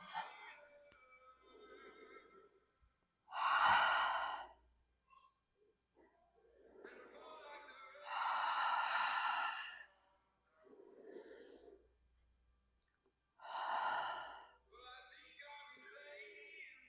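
Deep exhaling breaths during a sun salutation yoga practice: three loud, rasping, drawn-out exhales, each lasting about a second or two, with softer breathing between them in a quiet room.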